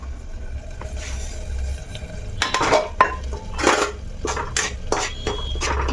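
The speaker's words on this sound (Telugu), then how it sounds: "ఇప్పుడు రవ్వ వేపేసుకుంటున్నా" Upma rava (semolina) for a sweet is roasted and stirred in a pan, with a soft low hum beneath repeated close scraping and clinking strokes of a spoon against the metal, in uneven bursts with no talking.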